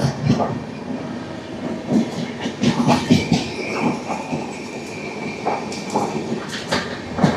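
The Kacheguda–Chittoor Venkatadri Express runs along the track, heard from inside as a continuous rumble with rhythmic clickety-clack of wheels over rail joints and occasional brighter rattles.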